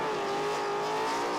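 A car doing a tire-skidding burnout at Summernats 29 gives a loud, sustained engine roar with a steady high whine and a hissing tire-smoke wash, unbroken and close.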